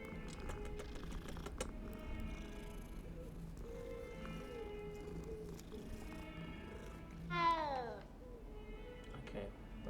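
A cat meows in the Hogwarts Legacy video game, a single rising mewl late in the scene over background music and soft keyboard typing.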